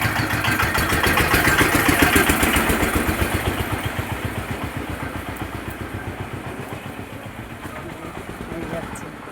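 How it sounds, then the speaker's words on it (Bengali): An engine van, a motorised rickshaw-style cart, rumbles steadily past in a narrow village lane, its mid-pitched engine loud and close at first, then slowly fading. No one speaks over it. "দেখো ইঞ্জিন ভ্যান ঢুকে গেছে আমাদের সরুগলিতে।"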